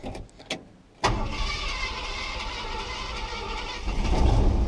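Car engine starting after a hood-bending roof impact: a brief quiet cranking, then the engine catches and settles into a steady idle with exhaust leaks and a very quiet muffler, swelling slightly near the end.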